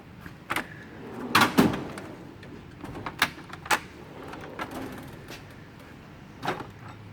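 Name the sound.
Snap-on tool box wrench drawer opening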